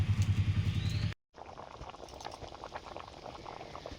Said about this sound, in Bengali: এই জন্য আলু সেদ্ধ করতে বসিয়েছি।